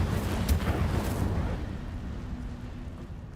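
Incendio fire spell cast in Hogwarts Legacy, a sudden whooshing burst of flame with a rumbling roar that fades away over a few seconds.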